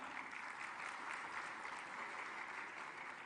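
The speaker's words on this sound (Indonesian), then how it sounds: "BRI Dirut Pak Heri Gunadi, kita beri tepuk tangan." Steady applause from a crowd at a mass KUR loan signing event in Indonesia, continuous and even throughout, heard at a moderate distance.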